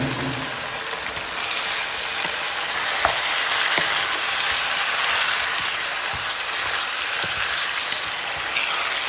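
Meat dropped into a hot pan for a meat-in-sauce dish hisses into a steady, loud, close sizzle with a few soft clicks and stirring touches, no voices.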